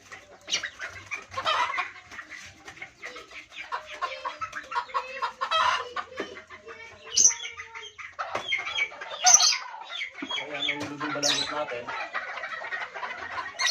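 A heritage-breed mother hen clucks and fusses nearby in short bursts, with someone talking over the bird sounds.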